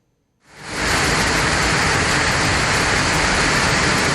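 Heavy rain in Chengalpattu district, Tamil Nadu, bursting in after a brief silence and settling into a loud, dense, unbroken roar of downpour.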